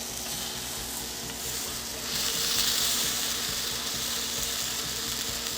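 A grilled cheese sandwich, made spicy, frying in a pan with a steady close sizzle that swells louder midway, no talking.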